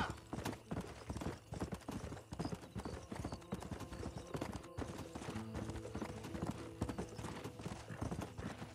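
Steady clip-clop of horse hooves on hard ground in the video game Red Dead Redemption: Undead Nightmare, a continuous trotting rhythm that stays close and fairly loud throughout.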